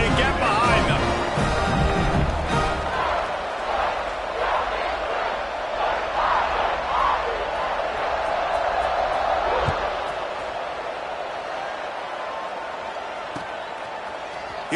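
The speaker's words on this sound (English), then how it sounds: "this crowd now ready to get behind them" A stadium crowd at a football game roars steadily as the kickoff nears, loud sustained cheering and babble throughout, with an announcer talking over it.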